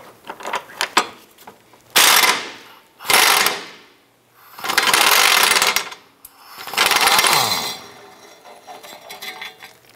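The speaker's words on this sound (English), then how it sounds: "start to remove the two rear 18 millimeter bolts" A ratchet loosens the rear 18 mm subframe bolts on a 2008–2013 Nissan Rogue, giving rapid clicking bursts of a few seconds each, four strong runs separated by pauses, loud and close, with lighter metallic clinks around them.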